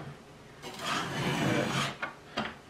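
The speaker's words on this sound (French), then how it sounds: "il faut passer sur les 3 pierres pour obtenir le meilleur affûtage possible" A leather paring knife blade is pushed across a whetstone in a long scraping stroke, followed by two shorter rasping passes, close and moderately loud with no talk over it.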